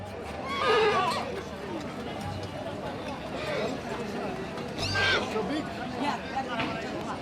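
A horse whinnies a couple of times amid a busy outdoor crowd murmur, with faint hoof sounds in the background.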